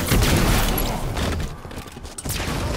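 Dense gunfire from a weapon in the video game Halo 5 rattles continuously and loudly, then thins toward the end with a few scattered shots.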